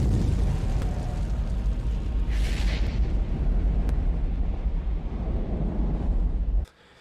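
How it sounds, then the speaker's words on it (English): Spaceship breaking apart in the sci-fi horror film Event Horizon as its gravity drive engages: a loud, continuous rumbling roar with a brief hissing burst midway, ending abruptly in near silence. "The ship breaks apart as the gravity drive engages and sucks the rear of the ship back to hell"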